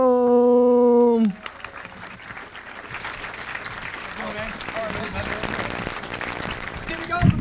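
Applause and crowd noise fill a comedy club audience after a harmonic tone fades, steady clapping rising slightly toward the end with a few whoops.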